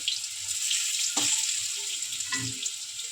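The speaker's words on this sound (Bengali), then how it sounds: "লাল লাল করে ভেজে নিচ্ছি, উল্টে দিচ্ছি" Malabar spinach leaf fritters in rice-flour batter frying in hot oil, a steady close sizzle running throughout with a few soft clinks of a utensil as they are turned.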